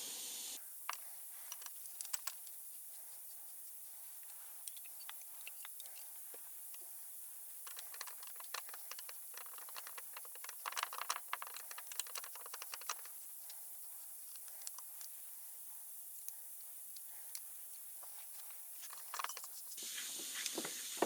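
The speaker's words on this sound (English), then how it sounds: "This actually had hex nuts on it, so I'm just going to lightly tighten them" Quiet workshop mechanism sounds as hex nuts are lightly tightened on an Atlas 7B metal shaper, with sparse small clicks and ratcheting ticks over a faint steady hiss, no talking.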